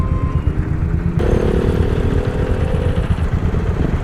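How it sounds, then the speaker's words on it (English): A Royal Enfield motorcycle engine runs loud and close with a steady, thumping mid-range roar. Its pitch and tone shift slightly partway through, and no voices are heard. "Damn, that Enfield is loud."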